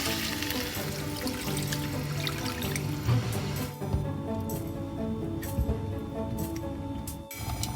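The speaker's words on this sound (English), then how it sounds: "I'm going to prepare it semi-dry, so I'm going to add some water to it." Water poured into a pan of masala chicken cooking on the stove, a continuous splashing, gurgling flow at close range that runs for several seconds, with a few brief clanks and interruptions along the way.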